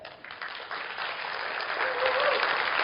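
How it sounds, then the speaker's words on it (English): Applause at a company leadership training session in Indonesia swells from a thinner start into a fuller, steady roar of many hands clapping together, growing slightly louder toward the end. "Let's give him a big clap"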